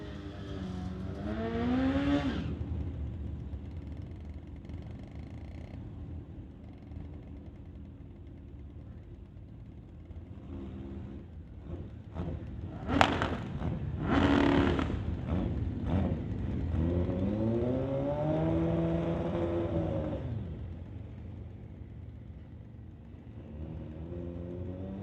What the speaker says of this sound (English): That'll bring up Darren Bowman. His 1400cc drag bike from 2008.